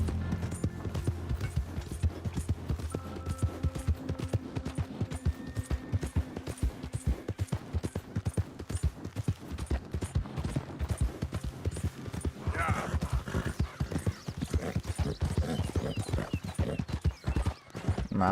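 A horse galloping in Red Dead Redemption 2, a fast, dense, rhythmic drumming of hooves that goes on and on, with a brief whinny and some faint talk mixed in.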